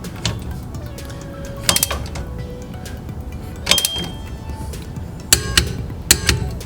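A torque wrench tightens rear wheel bearing bolts on a Toyota Corolla in a cross pattern, giving a handful of sharp metallic clicks and clanks spaced a second or two apart over a quiet garage background.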